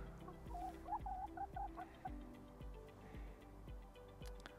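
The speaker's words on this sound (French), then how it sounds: "Voilà, donc ce petit coq." A young rooster on a small farm gives a short run of soft clucks over a steady ticking background, fairly quiet, with no talk.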